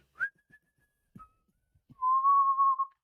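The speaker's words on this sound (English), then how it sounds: "I'm going to see if I can whistle the theme to the good and bad and the ugly" A person whistles the theme from The Good, the Bad and the Ugly: a quick rising whistled note, a couple of short tones, then one long held note, with a few faint knocks between them.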